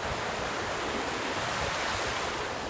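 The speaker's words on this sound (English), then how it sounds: "As you can see, I'm in the ocean." Ocean surf rolling in steadily with broadband rushing wash, close and continuous, with no voices over it.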